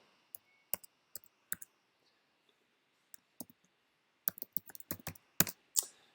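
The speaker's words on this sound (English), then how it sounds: "And you click login." Sharp, close clicks from a computer mouse and keys while logging in: sparse single clicks at first, then a quick dense flurry near the end.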